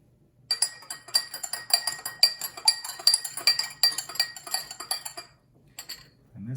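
Spoon stirring drops of food coloring in a glass of water, a quick run of bright repeated clinks and taps against the glass that stops and then briefly resumes.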